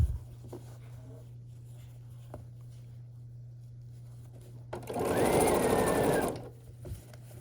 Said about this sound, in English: So I'm just going to lay one on top here and sew this across.